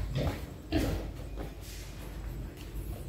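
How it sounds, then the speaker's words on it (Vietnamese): Pregnant wild boar in a farm pen give low grunting oinks, a few irregular snorts close by over a steady rumble of background noise. "Đây là cũng là những con heo rừng đang mang thai nha"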